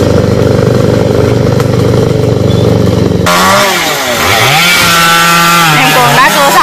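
A chainsaw cuts long Khaya tree branches hanging over power lines, first a steady loud drone, then rising and falling revs as the blade works through the wood.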